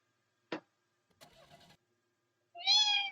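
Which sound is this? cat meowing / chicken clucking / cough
cat meowing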